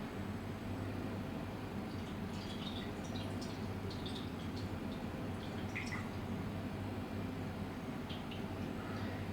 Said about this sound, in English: I'm going to see how much water needs to go into this.